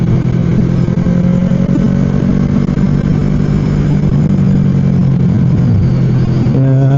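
A loud, steady engine rumble with a throaty exhaust drone, close by and continuous throughout.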